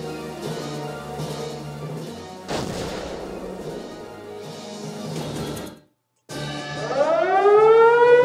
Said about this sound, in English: And they keep bombing the area we already have been in.